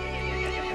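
A horse from the game Resident Evil Village neighing, a short loud harmonic whinny lasting under a second, close and alone.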